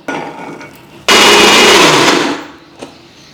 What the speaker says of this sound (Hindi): इस लहसुन को चलो पीस लेती हूँ।